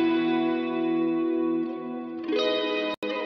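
A sustained synth chord swirls with a phasey chorus shimmer, shifting to a brighter chord near the end before a brief cut.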